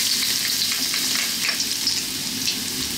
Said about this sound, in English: Let's start off by dropping in our garlic and our ginger.